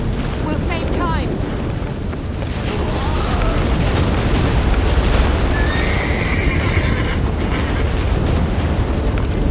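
A horse whinnies in The Witcher 3, its neigh rising near the start over a loud, rumbling game soundscape of booming, crashing destruction, with clip-clopping hooves and a voice speaking briefly.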